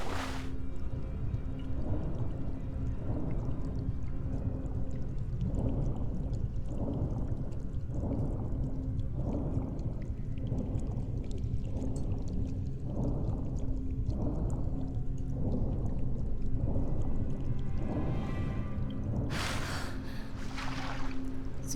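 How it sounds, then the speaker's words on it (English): In a Tomb Raider level editor game, a character moves through water with regular muffled strokes about once a second under a low droning ambience, ending in a brighter rushing splash near the close. "then just hop straight back into the water"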